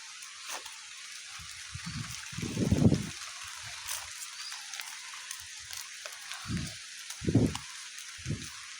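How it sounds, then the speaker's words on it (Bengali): Rain falls in a steady, faint, broadband hiss, broken now and then by short, dull low thumps and rustles close by. "বৃষ্টি হইতাস।"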